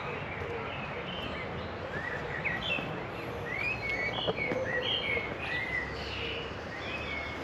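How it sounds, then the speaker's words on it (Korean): Many birds singing along a winding hillside path near Plovdiv, Bulgaria, a scatter of distant chirps and short whistled phrases over a steady outdoor hiss, with a few footstep-like knocks and no talking. "새소리 지금 엄청 많이 나"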